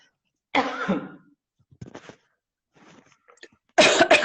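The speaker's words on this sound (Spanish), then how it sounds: "Aprovecho para toser yo también" A harsh cough, a few softer throat sounds after a pause, then another loud cough starting at the end.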